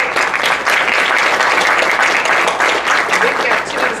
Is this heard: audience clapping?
yes